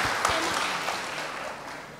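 A group claps briefly, the applause starting with a few sharp claps and gradually fading.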